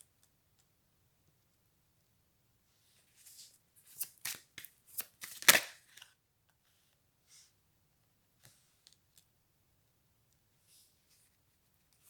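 Tarot cards shuffled by hand in a quiet room, a burst of crisp riffling and snapping over a few seconds followed by a few faint isolated taps.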